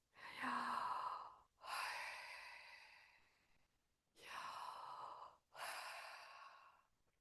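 Slow, deep breathing close to the microphone: two long inhale-exhale cycles, each breath drawn out and airy with brief pauses between, no talking.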